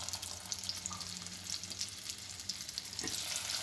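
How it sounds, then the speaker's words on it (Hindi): Shami kebabs fry in a pan with a steady, soft crackling sizzle that holds at an even level throughout, with no voices. "फ्राई कर रही हूँ।"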